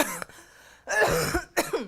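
A burst of harsh coughing: one short cough, a pause, then a long raspy cough followed by another short cough, close and fairly loud.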